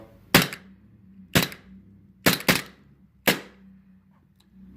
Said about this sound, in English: So it is pretty snappy. That's on Neutral 2.